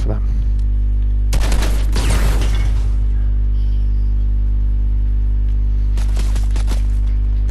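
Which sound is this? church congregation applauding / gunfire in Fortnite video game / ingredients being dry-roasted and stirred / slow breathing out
gunfire in Fortnite video game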